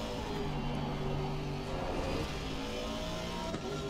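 An Aston Martin GT3 race car at Spa in Assetto Corsa Competizione, powered by a 4.5-litre twin-turbo V8 of Mercedes origin, gives a steady, deep engine drone that holds throughout at moderate volume.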